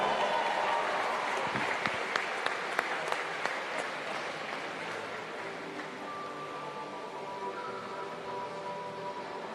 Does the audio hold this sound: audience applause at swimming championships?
yes